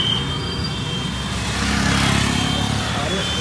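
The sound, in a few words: auto rickshaw passing by fast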